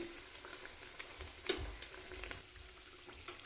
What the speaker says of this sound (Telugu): ఒకవైపు కాలిన తర్వాత రెండో వైపు కూడా తిప్పుకొని చక్కగా కాలనివ్వాలి